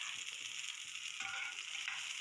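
Garlic and tomato masala sizzling and frying in a pan, a steady bright hiss throughout with faint stirring, close and continuous, no voices.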